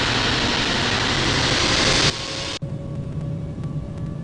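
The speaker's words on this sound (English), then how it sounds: "Cactus 196 flight of 10 is taking off runway 27 left" An airliner taking off from runway 27 left at Heathrow, heard as a loud, steady, broad engine roar that suddenly cuts to a quieter background hum partway through, with no speech.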